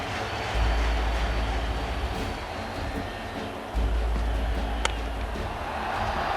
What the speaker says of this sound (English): that's Javed Miandad coming out to a tremendous roar and applause from this crowd